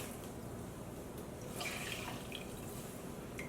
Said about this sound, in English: I'll rinse my hands off before I go into the blue one.